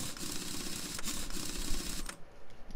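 Wheel bolts being screwed back on in the Car Mechanic Simulator video game, a dense, fast mechanical rattling and clicking that runs steadily and up close, then ends with a softer tail, with no voice.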